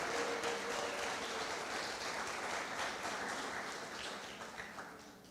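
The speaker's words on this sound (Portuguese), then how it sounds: "Dá uma salva de palmas ao Senhor." Sustained applause from a church congregation during an anniversary worship service, a steady wash of clapping that gradually fades slightly toward the end, with no voices over it.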